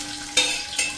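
Long-sliced ginger and garlic cloves fry in a pan, a steady hiss of oil with two quick scraping stirs about half a second apart, heard up close.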